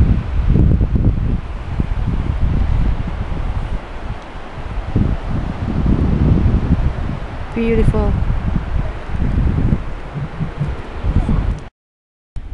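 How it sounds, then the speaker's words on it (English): Strong gusty wind on a beach at sunset roars and buffets the microphone continuously, loud and close, with a brief spoken word partway through and a sudden cutoff near the end. "it's getting really windy now"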